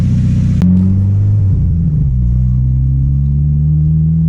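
A Honda Integra with a GTX3076 billet turbo being driven, its engine droning steadily and shifting pitch as it pulls, loud and close with a brief sharp click near the start and no talking.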